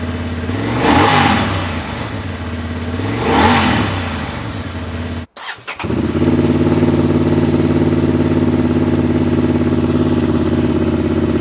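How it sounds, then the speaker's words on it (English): A Honda CB750 Hornet motorcycle with its exhaust baffle removed, loud and close: two sharp throttle revs rising and falling, a brief cut, then a steady deep idle rumble holding to the end. "slide this entire baffle out, and all of a sudden, you got a motorcycle that sounds awesome completely for free"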